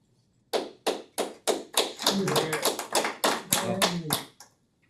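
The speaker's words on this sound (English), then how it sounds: "I think he deserved that applause" Slow, deliberate clapping at a city council study session, starting as a few separate loud claps and then building into a quicker run of steady claps. Low voices can be heard faintly underneath.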